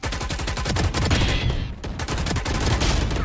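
Rapid automatic fire from a BlastX Phantom rifle in the Valorant video game, a dense continuous burst of loud shots with a brief break midway, close and alone.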